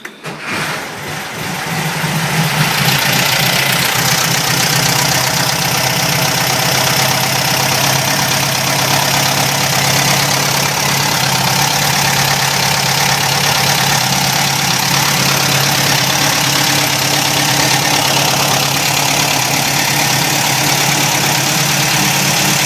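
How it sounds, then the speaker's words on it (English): A 1965 VW Karmann Ghia engine starts and settles into a steady, loud idle, a continuous close-up rumble with no talking. "Let's start the engine up and let you hear how she sounds."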